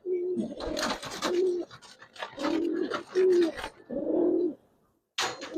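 Giribaz and coloring pigeons coo up close in a loft, several loud, rolling bursts of throaty cooing separated by short pauses before a brief silence.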